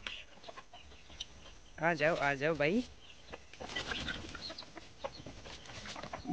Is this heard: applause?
no